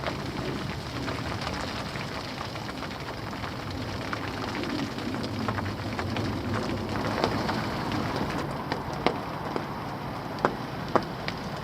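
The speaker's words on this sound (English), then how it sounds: "Started raining." Rain falling steadily on a canal-side fishing camp, a soft continuous hiss with scattered sharper drops and taps toward the end, fairly quiet and close, no talk.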